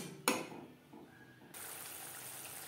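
Water is poured from a blender jar into a pan of frying spices for a Bengali fish curry, a soft steady wash of liquid and sizzle after a sharp clink of the jar against the pan, with no voices.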